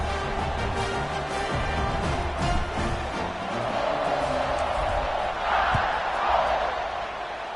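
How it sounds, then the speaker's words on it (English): Stadium crowd buzzing in College Football 26 after a touchdown, a steady broad roar of many voices with swelling cheers, heard under a commentator's talk. "this crowd is buzzing after that last score"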